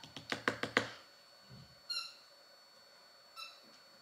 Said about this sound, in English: You hear a squeak toy